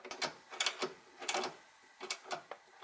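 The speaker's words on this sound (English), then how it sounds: "And these tighten down with 10mm wrenches as well." Metal clicks and ratcheting ticks from a 10mm wrench tightening nuts and bolts on a Nissan 350Z brake master cylinder brace, a series of short, close, quiet bursts in an irregular rhythm with no talking.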